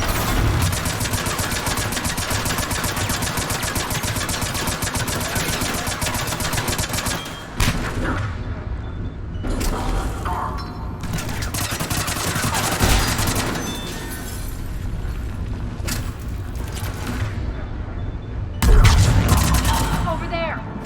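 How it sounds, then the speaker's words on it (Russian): Rapid automatic turret gunfire in Mass Effect 3 Legendary Edition rattles loud and dense for several seconds, then breaks into shorter bursts with pauses and a heavy impact near the end, with voices talking in between. "Ова, турель."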